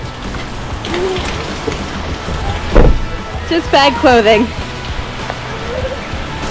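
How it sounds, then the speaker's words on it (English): Steady rain patters throughout in Cairns, Australia, as a voice speaks briefly, with a few louder thuds and splashes breaking through the constant hiss. "We can't let a little rain stop our adventures"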